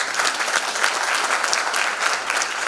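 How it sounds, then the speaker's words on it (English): A crowd at a youth business awards ceremony applauds steadily, a full, even roar of many hands clapping close and loud for a few seconds without any talking. "Good round of applause, ladies and gentlemen."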